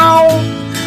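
A cat gives one loud, close meow, a short tonal cry that slides and fades within a second, heard alone.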